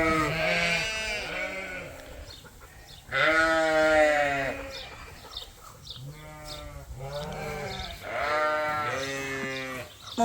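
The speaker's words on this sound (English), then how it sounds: "we gotta feed these ewes." Several ewes bleat on a sheep farm, repeated loud close calls in overlapping bursts with short pauses between them, heard alone.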